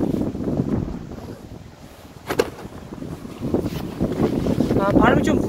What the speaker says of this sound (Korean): 바람이 좀 붑니다